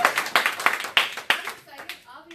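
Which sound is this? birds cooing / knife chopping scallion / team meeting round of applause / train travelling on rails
team meeting round of applause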